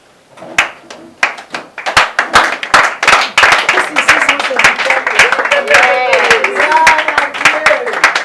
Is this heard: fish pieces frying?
no